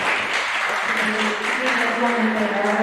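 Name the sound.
applause for county fair exhibitors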